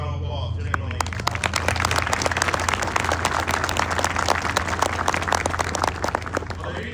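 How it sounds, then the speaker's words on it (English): Applause from the audience at a Marine recruit graduation ceremony at MCRD Parris Island, a steady wash of clapping with a low background hum and some voices in the crowd. "ladies and gentlemen, please round of applause"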